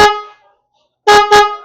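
A Tata Tiago car horn fitted to a Royal Enfield Bullet 350 motorcycle gives a loud, tonal honk that cuts off, then after a pause two short blasts in quick succession, close by and with no talk over them.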